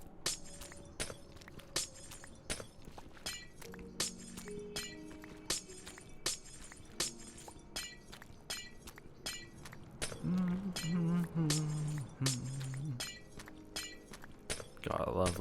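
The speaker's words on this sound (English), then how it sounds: "Gonna remove this layer of glass over here." Blocks of glass break one after another in the video game Minecraft, a steady run of sharp, crisp shattering clicks over soft background music, with a person talking now and then.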